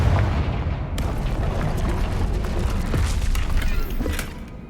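Bombarda and Confringo spell blasts in Hogwarts Legacy, loud booming explosions with crackling debris that rumble continuously and alone, with sharper impacts near the start and one second in.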